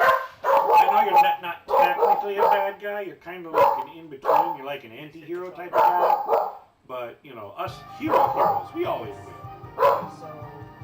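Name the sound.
dog barking at fireworks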